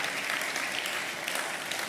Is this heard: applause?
yes